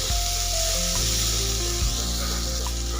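Amla (Indian gooseberries) fry in hot oil in a pan for pickle. The oil gives off a steady, dense sizzling hiss, with a few soft knocks and stirring bumps close by.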